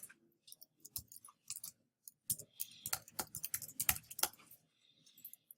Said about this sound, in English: I've done a lot of typing